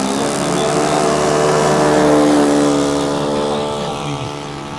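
A small engine on a model airplane with a 2-metre wingspan, its rocker arms exposed, drones loudly in flight with a steady buzzing tone that rises slightly, then fades a little as it moves away.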